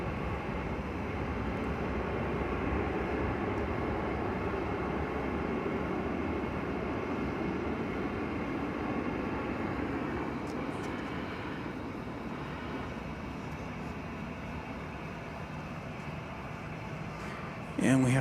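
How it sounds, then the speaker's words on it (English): Boeing 757 airliner arriving from Houston Intercontinental on approach to land at DFW Airport, heard as a distant, sustained engine roar that slowly fades, with a voice talking over it. "we've got another 757 coming in. This one from Houston Intercontinental Airport."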